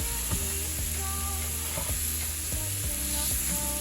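Big mushrooms sauté and sear in a pan with a constant close sizzle, while a flimsy spoon scrapes and stirs in repeated knocks through the frying.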